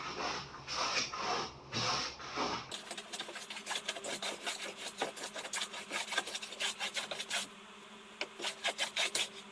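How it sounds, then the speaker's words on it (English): A hand plane takes light strokes along a wooden board, leaving repeated short shaving rasps in quick succession, close and fairly quiet, with no talking. "we'll be more or less planing with the direction of the board"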